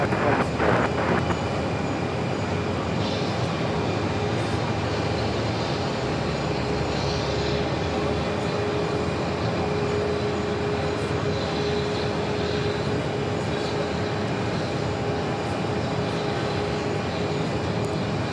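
A US Airways airliner taking off from Phoenix Sky Harbor airport bound for Tucson, a loud, steady engine roar that holds evenly throughout.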